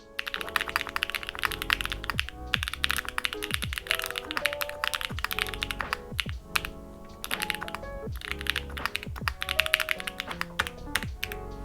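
Mode mechanical keyboard typed on quickly, a dense run of crisp clacky keystrokes with occasional heavier thocks, close and continuous with no voice.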